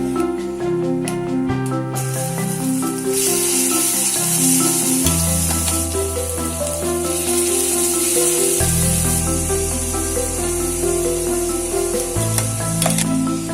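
Mixed vegetable thuvaiyal paste sautés in a pan with asafoetida, a continuous hissing sizzle and occasional stirring running under loud, melodic background music that dominates.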